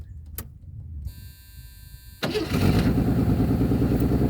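A key clicks and a warning chime hums, then a 1981 Mercury Capri engine with an exhaust leak cranks and fires up into a loud, rough, steady idle.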